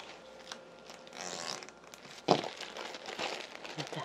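A plastic zipper freezer bag holding salted whiteleg shrimp bait is handled, with crinkling plastic, a sharp snap near the middle and further rustling as it is pressed and sealed close up.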